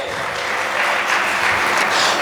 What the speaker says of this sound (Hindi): तो जिन्होंने आंसर दिया उनको ताली तो बनती है।